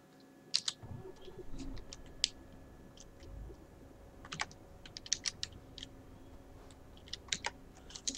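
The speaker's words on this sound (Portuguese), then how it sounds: "Então, pera aí, que eu tô no teclado aqui." Keys on a computer keyboard are pressed in scattered clusters of crisp clicks, close and fairly quiet, with pauses between bursts, alone without talk.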